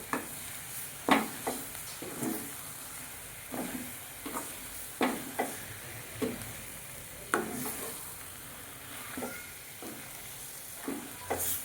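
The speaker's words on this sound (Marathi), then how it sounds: "आता हे आपल्याला चांगलं मिक्स करून घ्यायचं आहे" Matar paneer masala being stirred in a pan, with a spoon scraping through the thick gravy in repeated, uneven strokes over a soft sizzle, close and moderately quiet.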